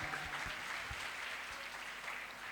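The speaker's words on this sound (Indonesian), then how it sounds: "Beri tepuk tangan." Audience applause at an Islamic dawn lecture in Indonesia, a steady wash of many hands clapping that fills the whole clip at moderate level, with no voices over it.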